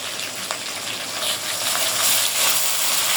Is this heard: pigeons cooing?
no